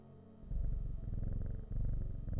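A house cat purring up close, a steady low rumbling drone that fills the whole stretch with a brief dip partway through.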